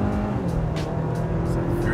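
A tuned Honda Civic Type R pulls hard in third gear, its engine holding a steady loud drone inside the cabin with road noise and faint voices around it.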